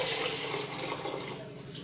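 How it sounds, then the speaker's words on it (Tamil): Water poured from a jug into a cooking pot for Tirunelveli sambar, heard as a soft, steady splashing gush up close that gradually fades over its brief duration. "தண்ணி ஒரு சொம்பு ஊற்றுறேன்."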